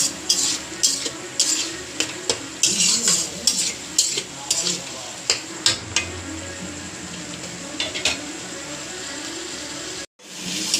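Spice masala being fried and stirred in a pan, steady sizzle broken by a run of quick spatula scrapes and knocks against the metal, close and fairly loud, with a brief drop near the end.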